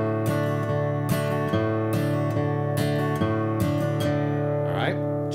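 An acoustic guitar picks a quick bluegrass D-run lick in D, bright plucked notes over ringing strings in a brisk steady rhythm, close and unaccompanied.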